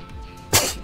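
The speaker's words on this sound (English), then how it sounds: "Excuse me, I'm sneezing." A single short sneeze bursts out close to the microphone during a live stream, loud and abrupt after a quiet moment.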